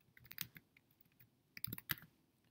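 Typing on a computer keyboard while setting up a question in a classroom tutorial, two quick clusters of close, crisp keystrokes separated by a brief pause, with no talking.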